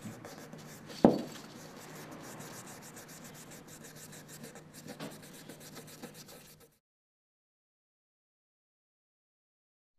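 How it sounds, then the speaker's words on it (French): Abrasive cloth folded and rubbed inside a café racer engine housing, a dry scratchy rasping with one sharp knock early on, then the sound stops abruptly and silence follows. "Vous pouvez plier une toile de ponçage pour bien atteindre l'intérieur."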